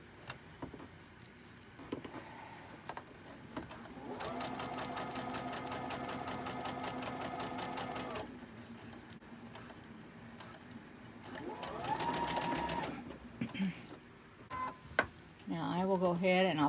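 A home sewing machine stitching cotton fabric runs steadily for a few seconds, pauses, then runs again briefly. The whirring is close and moderately loud, with quiet handling noises around it.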